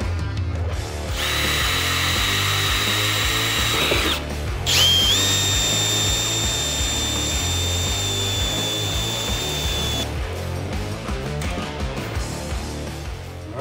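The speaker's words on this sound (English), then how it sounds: "we're gonna have to drill and countersink this aluminum frame" Power drill boring into an aluminum access door frame before countersinking: a whining motor that starts, pauses briefly, then runs again with a rising high-pitched grind, close and loud, ending in a steady hum.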